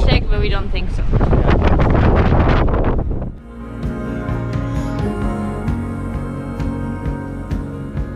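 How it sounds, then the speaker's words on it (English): Strong wind buffets the microphone at Cape North in snowy conditions, a loud roaring rush that drops suddenly about midway and gives way to a steadier, quieter hum with voices underneath. "Way too much wind."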